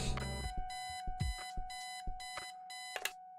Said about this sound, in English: Let's turn off the alarm.